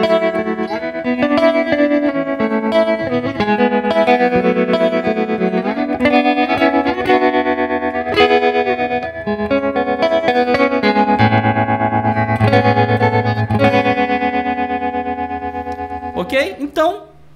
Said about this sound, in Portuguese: Mas é um pedal de tremolozinho aqui